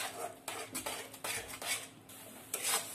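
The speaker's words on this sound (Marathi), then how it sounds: "हे बघा अशा प्रकारे आपल्याला परतायचं जेणेकरून ते खाली चिपकणार नाही" Mango mawa barfi mixture with mango pulp being stirred and scraped in a pan to keep it from sticking, quiet repeated metal scraping strokes in an irregular rhythm, close by.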